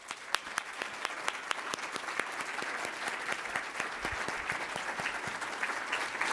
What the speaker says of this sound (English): big old round of applause to today's speakers, Purba Majumder, Betty Collins, and Chevonne